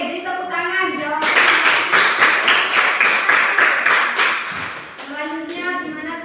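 A group of people in a classroom claps together, a burst of rhythmic applause lasting a few seconds and framed by speech before and after.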